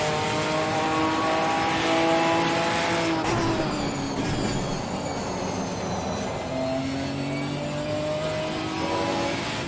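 A GT3 race car engine in Assetto Corsa Competizione roars loudly and steadily, its pitch climbing and dropping through gear changes, with another car's engine close by and a brief tyre squeal.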